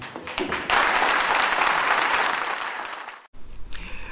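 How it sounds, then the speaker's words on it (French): A crowd applauds Ali Bongo Ondimba at a political gathering, a dense, sustained burst of clapping that cuts out briefly near the end before a few scattered claps resume. "je vais vous demander de vous lever et d'applaudir le distingué camarade Ali Bongo Ondimba"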